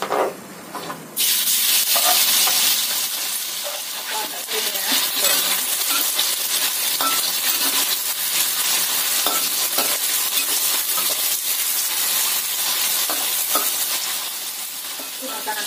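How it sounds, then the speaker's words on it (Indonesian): Chicken sizzles loudly and steadily in a generous amount of hot oil, a dense crackling hiss with occasional pops and scraping stirs. "kita panaskan minyak agak banyakan kita goreng dulu ayamnya sampai matang"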